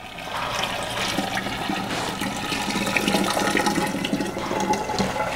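Brewed kombucha tea is poured from a pot through a strainer into a jar, a steady, close rush of splashing liquid that continues unbroken.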